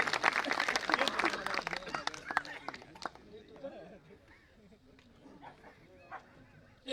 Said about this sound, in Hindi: एक बार जोर से बजा दीजिए ताली